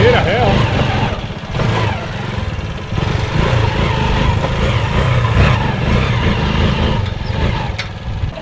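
Engine of a homemade quad bike built in a workshop chugs and rumbles up close while being put into reverse, a rough steady idle throughout with people talking over it.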